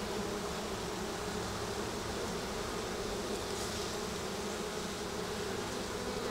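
Dense, steady buzzing fills an opened, crowded honey bee hive, a constant close drone from many bees with no pauses and no voices.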